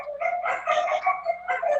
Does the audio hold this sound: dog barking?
yes